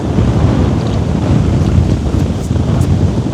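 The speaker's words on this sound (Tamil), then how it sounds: "நாங்கள் வந்த நேரம் காற்று கடும் காற்றா கிடக்கு." Strong gusty wind roars against the microphone outdoors beside a village pond, a loud continuous rumble with no voices.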